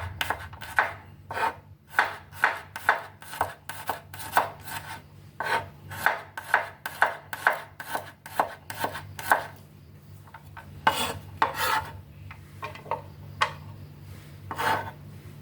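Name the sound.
thinly slicing garlic cloves with a knife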